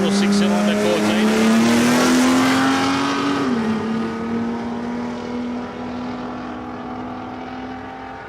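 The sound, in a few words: drag racing cars, Holden VL and 6-cylinder Ford Cortina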